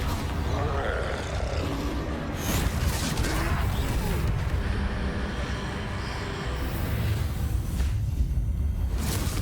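The Confringo blasting spell is cast during a troll fight in Hogwarts Legacy, giving whooshing bursts and booming impacts over a busy layer of game sounds.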